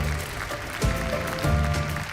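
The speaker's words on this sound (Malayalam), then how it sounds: "മോട്ടു പത്ലുമാർക്ക് വേണ്ടി ഒരു വലിയ കൈയടി കൊടുക്കൂ" Applause for Motu Patlu at an animated award ceremony: a steady, dense wash of clapping, fairly loud and close, running the whole short stretch with a faint musical tone underneath and no one talking.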